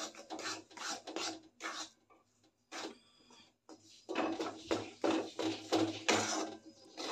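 Mung bean and soybean flour dry-roasting in a pan while a spatula stirs it, making repeated raspy scraping strokes in uneven bursts with short pauses, close and moderately loud.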